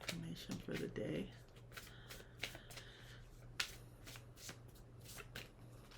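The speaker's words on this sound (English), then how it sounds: "One more shuffle." A deck of tarot cards is riffled and shuffled up close, with sharp crisp snaps and flutters in irregular bursts and quieter handling sounds between, and a voice speaking softly at times.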